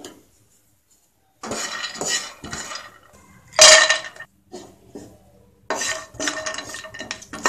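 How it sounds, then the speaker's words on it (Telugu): Cashews and dry fruits dry-roasting in a pan on the stove, heard as bursts of scraping and clinking stirring with pauses between, fairly close and with no talk. "జీడిపప్పును వేయించుకోండి"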